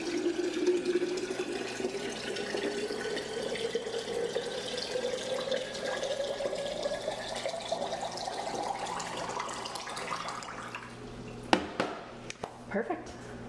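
Filtered water runs steadily from a tap for watering a potted plant, a continuous close splash and hiss that rises slightly in pitch as a vessel fills, then stops, leaving a few brief clinks and drips.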